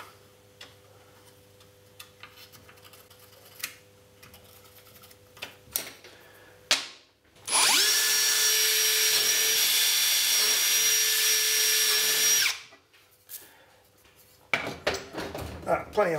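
A power drill bores holes in a trailer module with a loud, steady high-pitched whine lasting about five seconds, set between quieter clicks and handling noises.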